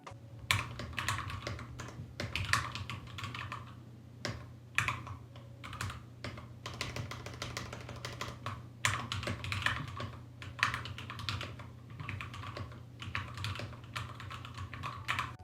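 Steady close typing on a mechanical keyboard with Gateron Yellow switches, low-profile aluminum case and white and gray keycaps, with quick irregular bursts of soft clacks and brief pauses and no voices.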